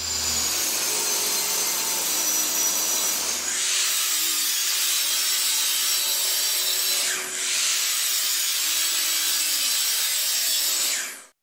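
Ripping a board from an old computer desk down to 12.5 inches wide with a saw in a woodworking shop: a loud, steady, close cutting roar that runs continuously, dropping slightly in pitch partway through as the blade works along the board.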